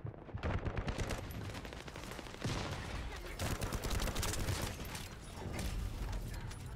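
Sustained rapid gunfire from The First Descendant video game, dense overlapping bursts and shots that keep up steadily throughout without pause.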